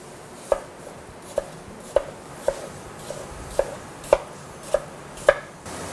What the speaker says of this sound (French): je coupe mes pommes en cubes d'1 centimètre toujours